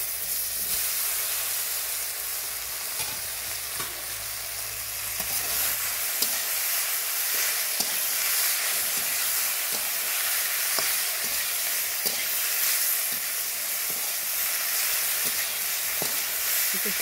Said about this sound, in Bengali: লঙ্কা গুঁড়ো, লবণ দিয়ে মশলা কষে নিব।